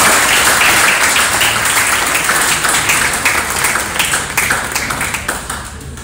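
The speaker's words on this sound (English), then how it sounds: "Please give him a big round of applause." An audience applauding at a community event, dense sustained clapping that fills the room and slowly thins out toward the end.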